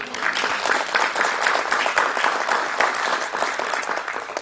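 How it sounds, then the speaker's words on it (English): A rally crowd applauds Senator Ron Johnson at a Vice President Mike Pence event at a Blain's Farm and Fleet distribution site, with dense, steady clapping that holds loud and even for the whole stretch. "You give him a round of applause."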